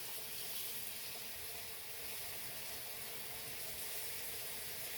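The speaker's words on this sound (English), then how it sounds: "Now we're going to fill the pot with water." Tap water pours steadily into a cooking pot of potatoes, a continuous even rushing hiss with no breaks, moderately close.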